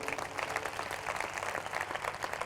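A church congregation at a Hindi-language worship service applauds, giving steady, dense clapping from many hands that sounds fairly distant and fills the room evenly.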